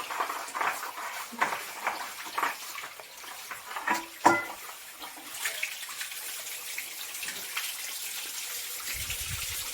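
Dishes are washed under a running kitchen tap: a steady stream of water with scattered clinks and knocks of utensils, one sharper clatter partway through, then an even gush.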